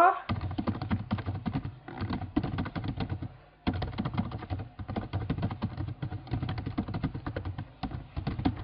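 Rapid keystrokes tap out a password on a computer keyboard, coming in quick close bursts with a short pause partway through.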